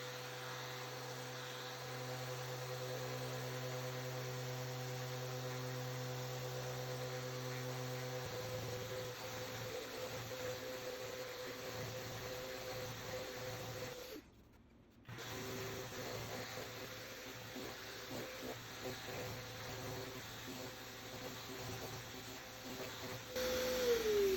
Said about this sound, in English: When I'm using an orbital sander, I don't want to go crazy and accidentally cut through the veneer layer